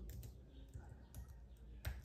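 Typing on a Huawei MatePad SE 11 keyboard: soft, scattered key clicks at an uneven pace in a quiet room, with a slightly sharper tap near the end.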